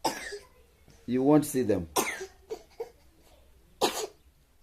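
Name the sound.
man coughing while asleep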